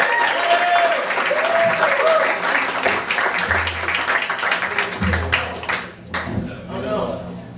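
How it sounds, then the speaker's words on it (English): A crowd applauds in a dense, sustained wash of clapping, with voices talking and calling out underneath and a brief piano-like tone early on. The clapping thins out toward the end. "how about we just give a round of applause for Connor if he comes out and he's ready"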